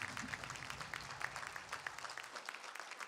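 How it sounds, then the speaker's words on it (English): Applause from the audience at a high school football banquet honoring a player, quiet and fairly distant, a steady patter of clapping hands with no speech over it. "So could you give him a round of applause?"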